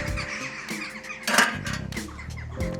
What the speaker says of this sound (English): there are those crows